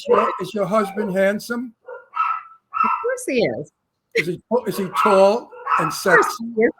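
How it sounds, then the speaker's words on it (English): A pet dog barks and yips a few times in an indoor talk-show setting, the short barks mixed in among steady conversation from several people. "That's my dog."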